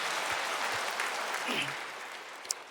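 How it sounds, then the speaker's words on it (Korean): A church congregation claps together in sustained applause during a Sunday service, a steady wash of hand claps filling the room for a few seconds. "하나님께 영광의 박수 올리겠습니다."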